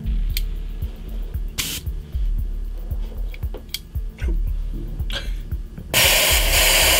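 An airbrush sprays paint in several short hissing bursts, with small clicks from working the trigger back and forth, then a louder sustained spray at the end.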